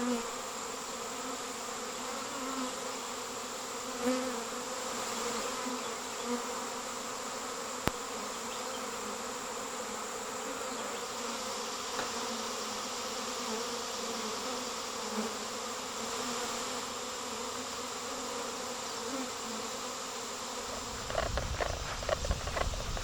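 A honeybee swarm gathers around a pear tree in front of the hives, producing a dense, continuous buzzing drone that stays steady throughout, with brief rustling near the end.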